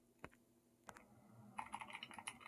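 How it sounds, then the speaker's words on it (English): Computer keyboard typing comes as a few isolated key clicks at first, then a faster, denser run of keystrokes, close and fairly quiet, with no speech. "The rare time where I actually enjoyed the typing."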